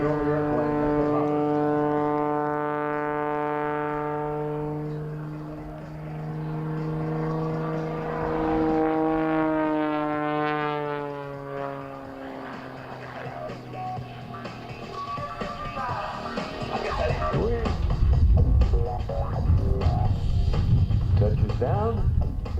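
Rob Holland's aerobatic airplane hovering at a 2022 airshow in Geneseo, NY: a loud, sustained engine drone with a strong harmonic tone that sags and swells in pitch, then turns rougher and louder toward the end.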